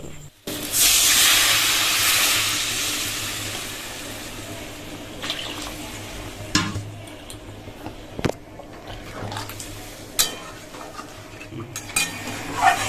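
Water poured into a hot pan of fried potatoes and masala for a fish-roe aloo dum, hitting with a loud rushing hiss at the start that fades into quieter bubbling and scattered spoon clinks.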